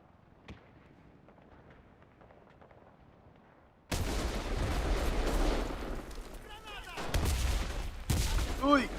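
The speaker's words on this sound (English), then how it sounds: "Ooh, that's a grenade." A grenade blasts in the video game Enlisted amid a Berlin battle, a sudden loud burst of explosive noise and rumbling gunfire that follows a quiet stretch, with a player talking over the din.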